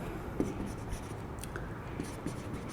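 Marker or chalk writing on a board during a Class 12 math lesson on continuity, soft scratchy strokes and taps against a quiet room with light background noise.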